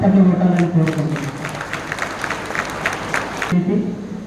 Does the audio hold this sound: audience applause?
yes